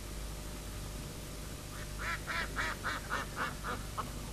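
Ducks quacking at Lake Mývatn, Iceland, in spring: a quick run of about eight clear, evenly spaced quacks over a steady low background rumble.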